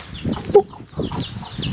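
Chickens cluck close by in a short run of clipped, throaty calls with a brief louder squawk in the middle, with no one talking.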